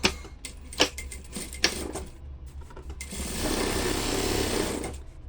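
A sewing machine stitches a fabric bag, starting with a few clacking bursts and short runs, then settling into a steady, close, continuous whirring hum for several seconds.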